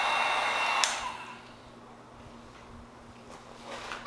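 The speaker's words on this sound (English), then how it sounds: "I'm going to use the heat gun as I've mentioned." A heat gun drying a tattoo stencil placed on an ear, a steady close blowing hiss that is loud at the start, eases off, then builds again toward the end, with no voices.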